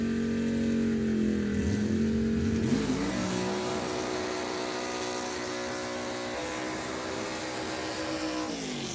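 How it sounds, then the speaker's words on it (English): Loud car passing at a race track, a strong engine drone with shifting pitch that swells and then holds a steady roar for several seconds, heard alone without talk. "That car is loud."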